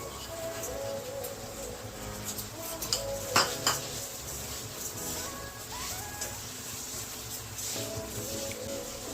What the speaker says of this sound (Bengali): ডালটা নেড়ে এবার গরম জল দেব